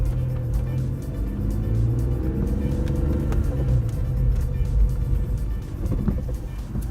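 A 2006 BMW M3 E46 convertible with cams and other engine work pulls away, its engine a steady low rumble heard from inside the car, with faint clicks and knocks.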